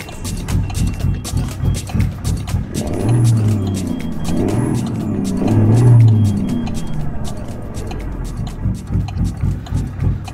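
A truck engine in Euro Truck Simulator 2 cranks with a rapid chatter, catches and swells through two revving surges, then settles back into a throbbing diesel idle, all close and without speech.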